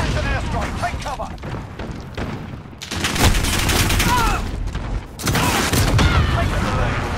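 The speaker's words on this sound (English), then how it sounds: "Enemy position airstrike" An airstrike in the Road to Damascus video game brings loud, dense explosions and rumbling gunfire in sustained waves, briefly dipping before renewed heavy blasts, with voices faintly underneath.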